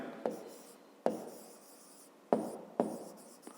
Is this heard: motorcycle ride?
no